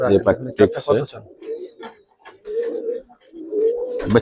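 Giribaz pigeons, colouring breed, coo in a few soft, low, rolling calls, close by, after someone talks over the first second.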